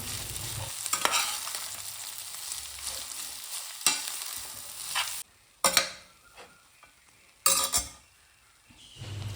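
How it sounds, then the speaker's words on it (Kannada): A spoon stirring shavige bath, vermicelli mixed with grated fresh coconut in a pan, with repeated scraping strokes, clinks against the metal and a faint sizzle. It is close and there is no talking. "1/4 ಕಪ್ ಹಸಿ ತೆಂಗಿನ ತುರಿಯನ್ನು ಹಾಕಿ ಎಲ್ಲವನ್ನು ಒಳ್ಳೆ ಮಾಡಿ ಮಿಕ್ಸ್ ಮಾಡ್ತೀನಿ"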